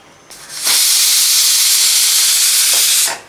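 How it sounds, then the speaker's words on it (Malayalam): A kitchen pressure cooker cooking tapioca lets off steam in one loud, close, sustained hiss lasting a few seconds, rising sharply and cutting off abruptly, with no talking. "അപ്പോൾ നമ്മുടെ കുക്കറൊക്കെ ഇങ്ങനെ അടിച്ചുകൊണ്ടിരിക്കുകയാണ്"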